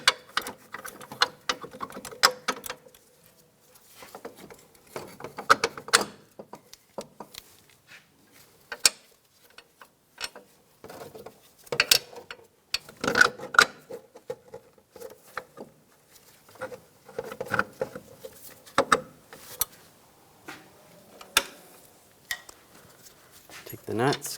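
Bolts and nuts being fitted and started by hand on a 2004-2009 Toyota Prius front strut and knuckle, with sparse metallic taps, clicks and rattles in a quiet garage, and a voice speaking at times.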